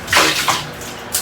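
Shower water runs while a child is bathed, heard as short splashy gushes and pours of water close by over a brief moment.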